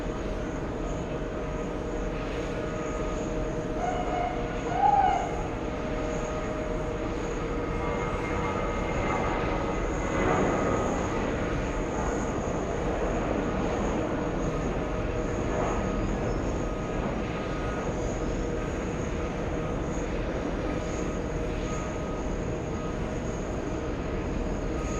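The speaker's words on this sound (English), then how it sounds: "First takeoff of the day. We have JetBlue 279 to the Bahamas." A JetBlue jet airliner takes off at JFK, a distant, sustained engine roar and rumble holding steady throughout, with a brief faint chirp early on and no speech.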